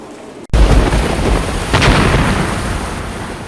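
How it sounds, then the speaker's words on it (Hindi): A violent storm with heavy rain and strong wind lashes a city, giving a loud, dense roar that surges abruptly after a brief dropout, with a second swell of noise partway through and no speech. "भारी बारिश और लगभग 10 मिनट तक आए तूफान से बड़ा नुकसान हुआ"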